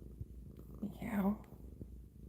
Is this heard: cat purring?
yes